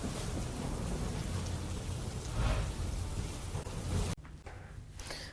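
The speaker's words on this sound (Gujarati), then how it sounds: "ગામમાં ભારે વરસાદ વરસ્યો છે।" Heavy rain pours down on a village in Una, Gir Somnath, Gujarat: a loud, dense, continuous roar of downpour that drops abruptly to a softer patter near the end.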